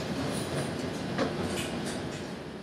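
A Caltrain diesel passenger train pulls away, a steady low rumble and rolling noise heard from inside the carriage, with a few faint clicks and no talk.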